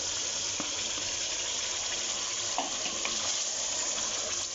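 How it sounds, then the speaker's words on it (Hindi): Boiled, coarsely crushed spinach goes into a pan of sizzling masala for aloo palak, producing a steady moderate hiss and bubbling with a few faint clicks, no speech. "अब हम इसमें पालक डालेंगे।"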